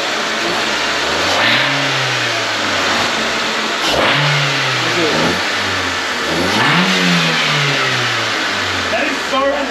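A car engine running on octane fuel and nitrous revs up and down in repeated rising and falling sweeps, loud and close, while voices talk over it.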